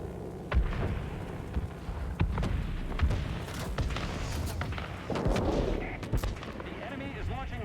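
Rockets launched from a military base in the video game World of Warplanes, heard as a rapid series of sharp booms and thuds over a constant rumbling background, some blasts louder and closer than others.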